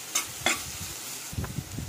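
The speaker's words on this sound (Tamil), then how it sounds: "பொரிஞ்சதும் வெங்காயம் போட்டுருக்கேன். வெங்காயம் வந்து நல்லா பொன்னிறமா வதங்கட்டும்." Onions sautéing in oil after mustard seeds have popped, a low crackling sizzle with a couple of sharp utensil scrapes early on, close and moderate, no speech.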